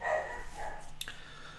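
A household dog barks in the background during an evening, heard as a couple of faint, distant yips or barks under quiet room noise.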